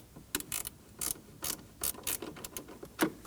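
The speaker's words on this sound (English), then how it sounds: "Using the same 10mm wrench, we are going to be loosening the positive battery terminal now." A 10mm wrench loosens the positive battery terminal on a 2009-2017 Audi Q5 in the trunk. Quiet, close ratcheting clicks come in a steady series of short metallic ticks with no talking.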